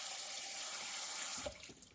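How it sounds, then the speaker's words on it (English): Onions being rinsed under a running kitchen tap, a steady close stream of water splashing into the sink that cuts off near the end, leaving a few faint drips and clunks. "I'm washing the onions under the running water instead of soaking it in the bowl."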